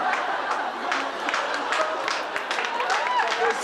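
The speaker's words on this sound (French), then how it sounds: "il y a un tonnerre d'applaudissements pour Marie-Christine" A television studio audience breaks into dense, sustained applause, many hands clapping at once with a crowd murmur underneath and a voice speaking over it.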